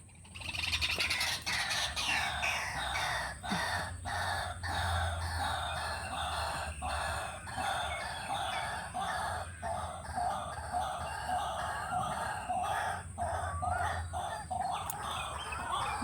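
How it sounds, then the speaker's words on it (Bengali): A rooster crows and clucks repeatedly, loud and close, with other birds calling in the background. "ডাক পাখি ডাকছে দেখুন।"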